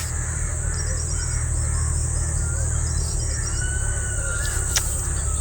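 Birds chirp and call intermittently in the distance in the early morning over a constant buzz of insects and a low hum, with no talking.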